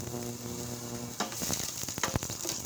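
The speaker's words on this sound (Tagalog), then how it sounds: "Yan boss, magigisa tayo ng sibuyas." Onion sautéing in a hot pan for a simple pork, shrimp and bitter melon dish, with a steady sizzle that grows louder and crackles in bursts after the first second, then keeps sputtering close by.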